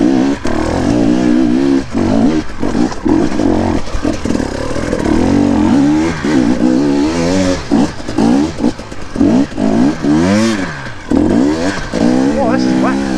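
An enduro motorcycle rides through wet trails, its engine loud and close as it revs up and down in repeated surges, with a rider's voice breaking in at times.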